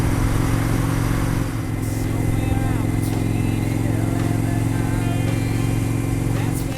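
An Indian FTR motorcycle rides in sports mode around Sydney Olympic Park, its engine a steady, close drone with harmonic layers that holds at a constant level throughout, while wind rushes over the microphone.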